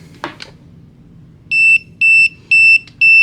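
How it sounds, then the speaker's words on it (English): A Konig 1.0 gun safe's tamper alarm sounds as four even, high electronic beeps in a steady on-off pattern, moderately loud and close, after a couple of faint clicks. "if somebody tampers with it or moves it, you'll get an alarm."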